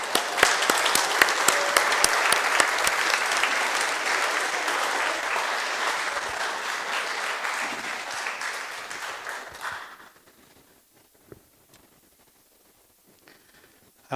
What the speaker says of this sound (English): I want to clap anyway.